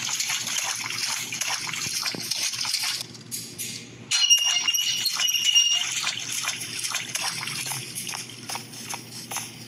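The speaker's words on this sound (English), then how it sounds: "we need to drain the water down here" Water drains in a video game, a gushing, trickling flow with splashy bursts and a brief pause before the rush resumes, fairly close and without talk.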